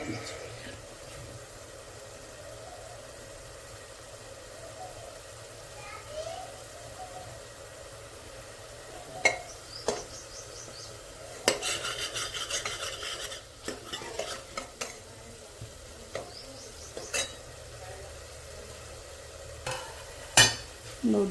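Masala sizzling in oil in a pan while being stirred, with scattered scrapes and clatters of a spoon against the pan over a steady fry hiss, close and moderately loud.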